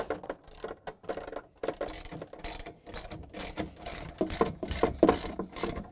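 Socket ratchet driving 10 mm bolts into a Samsung freezer during a defrost heater repair, a run of quick close clicking bursts with short pauses between strokes, loud and continuous for several seconds with no talk.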